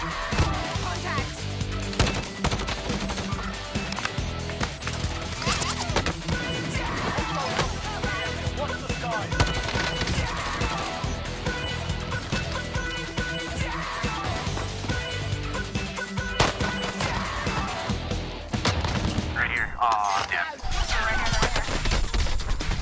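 Gunfire in the video game Call of Duty Warzone, with bursts of shots and crashing impacts mixed under game sound and excited players talking over it throughout.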